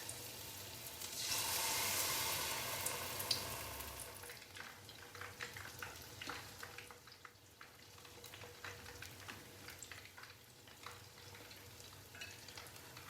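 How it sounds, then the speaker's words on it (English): Tempura shrimp coated in mixed flour batter deep fry in oil with a soft, steady bubbling hiss, a louder surge of sizzling early on settling into a quieter crackle. "And I will fry for about 3 minutes."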